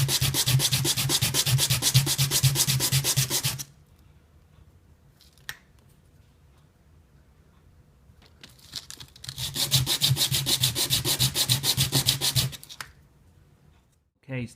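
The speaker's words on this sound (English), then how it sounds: "when you sand it, it makes it a little bit even" A Tamiya Mini 4WD Super 2 chassis is sanded in two loud, rhythmic bursts of close scraping strokes, separated by a quiet stretch with a single small click.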